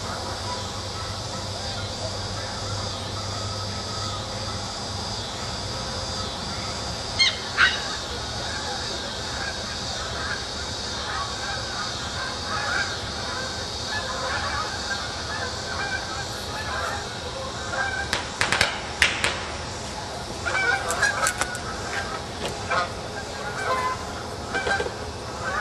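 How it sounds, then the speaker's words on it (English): Geese fly overhead honking, with repeated honks at a moderate distance over steady outdoor ambience, some louder calls near the middle and end, and faint voices in the background. "They've got geese flying overhead honking."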